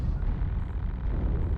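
Weapons fire and explosions rumble continuously in the MechWarrior Online battle game. A dense, low, booming roar holds steady with no single distinct shots standing out.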